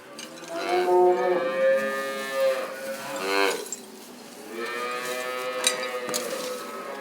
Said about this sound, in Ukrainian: Треба телят поїти, що кричать цей день вже телята голодні ж теж.